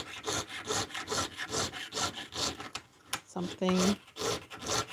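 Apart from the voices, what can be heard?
sawing copper by hand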